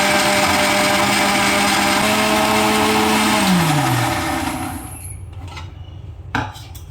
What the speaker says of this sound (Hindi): अब बस मिक्सी में लगा के इसको पीस लेना है।